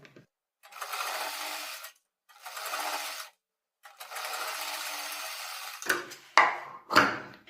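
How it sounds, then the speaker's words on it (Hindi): An electric sewing machine runs in three separate bursts of stitching along a buckram edge, each a steady whirring hum, followed by a few sharp clicks and handling knocks. "यहां पर भी हम बुकरम के ऊपर किनारी पर सिलाई लगाएंगे।"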